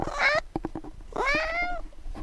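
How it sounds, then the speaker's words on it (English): A cat gives two drawn-out meows close by, separated by a short pause filled with faint clicks and rustling. "That's my cat."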